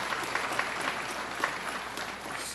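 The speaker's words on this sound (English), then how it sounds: "Let's give the Assemblyman and all the Assembly members a round of applause." Audience at a Long Island property tax event with Governor Cuomo applauding the Assemblyman and Assembly members, a fairly quiet, continuous patter of clapping from a roomful of people.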